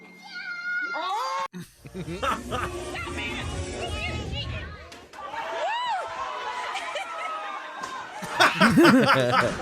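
A cat meows repeatedly across the stretch, its calls mixed with people talking and laughing nearby in a lively, noisy room.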